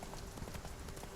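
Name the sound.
horse Roach galloping in video game The Witcher 3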